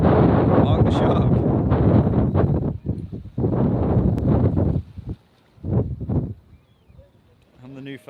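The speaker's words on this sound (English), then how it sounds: "It's getting crazy windy though." Strong, gusty wind blowing over a boat off Newfoundland, buffeting the microphone in loud rumbling bursts that drop away between gusts, while a voice talks intermittently.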